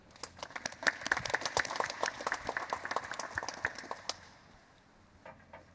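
A conference audience at JuliaCon 2024 applauds to welcome a speaker, steady moderate clapping from many hands that fades out after about four seconds, followed by faint room noise.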